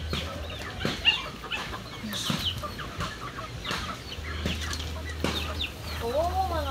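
A flock of hungry backyard chickens clucks and squawks nearby in scattered, overlapping calls, with a person's voice briefly audible among them.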